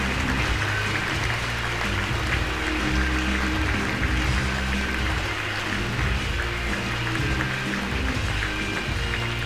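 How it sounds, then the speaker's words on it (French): A conference audience applauds for an award speaker in Zürich, a dense, steady wash of clapping that fills the whole stretch evenly without a break. "Veuillez accueillir avec un tonnerre d'applaudissements Daniel Eisele."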